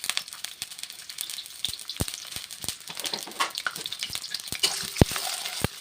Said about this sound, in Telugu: కొంచెం హీట్ ఎక్కడం ప్రాసెస్ స్టార్ట్ అయ్యాక సిమ్లో పెట్టేసి ఆనియన్స్ ఫ్రై చేసుకుందాం